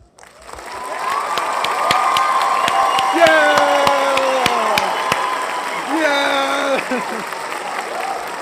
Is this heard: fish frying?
no